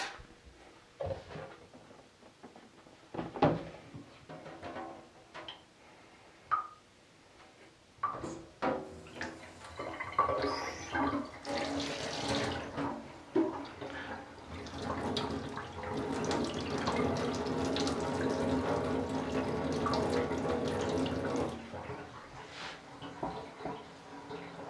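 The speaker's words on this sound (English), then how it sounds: "we're going to want to start running the water again for stop bath at this point" Tap water runs into a darkroom sink for the stop bath, starting with scattered knocks and handling noises, then building into a steady continuous gush that fills the rest of the scene.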